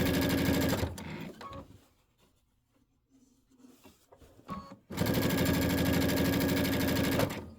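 A sewing machine stitches a border onto a quilt top in two loud, steady runs, the first cut off after a second and the second continuing strongly to the end, with quiet handling noise in the pause between.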